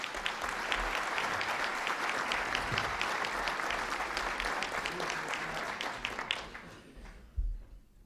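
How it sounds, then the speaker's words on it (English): An audience at a National Press Club luncheon applauds the head table with sustained, dense clapping that tapers off toward the end, followed by a brief thump. "a round of applause for our head table"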